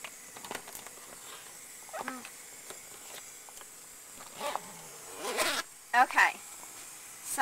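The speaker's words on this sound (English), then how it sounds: "So I'm going to zip up the inside one." The zipper on a Vitaeris 320 hyperbaric chamber rasps in several short pulls, near and fairly faint, with quiet rustling between strokes and a few louder zips toward the end.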